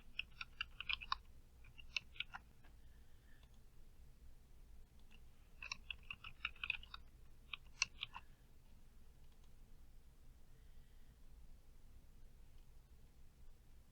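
Typing on a computer keyboard, entering a password: two short bursts of quick key clicks, close and fairly quiet, separated by pauses over a faint steady background hum.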